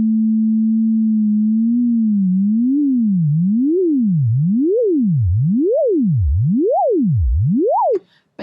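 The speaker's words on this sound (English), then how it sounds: "When you first press down a key, it will sound like a normal sine wave playing, and then over time the LFO kicks" Synthesizer sine-wave tone on a held key: steady at first, then a delayed LFO takes hold, making the pitch swing up and down in widening, regular sweeps about once a second, ending with a brief click.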